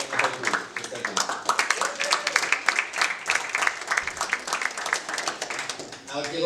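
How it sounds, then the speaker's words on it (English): An event audience claps for a whole group of entrepreneurs and presenters, a lively burst of applause with sharp individual claps, with voices talking over the clapping. "one round of applause for the whole group"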